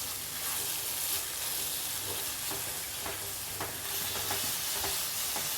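Tomato masala for prawn fry sizzles steadily in a pan while a spoon stirs it, scraping now and then under a constant close hiss, with no talk.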